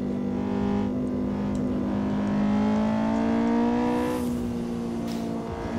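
A racing car engine in Assetto Corsa on the Nordschleife hums loudly and steadily, its pitch climbing gradually as it accelerates, then dropping briefly near the end.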